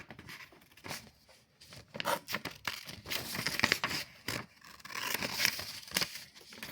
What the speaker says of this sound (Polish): Mamy, mamy nożyczki i wycinamy.